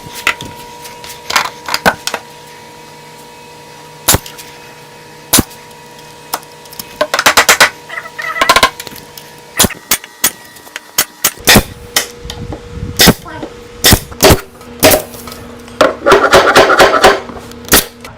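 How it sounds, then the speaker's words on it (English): Hammer blows driving nails into the wooden stretchers of a cabinet box, sharp isolated strikes with clustered rapid rattling bursts, close and loud with no talk. "I'll go ahead and get those nailed in now"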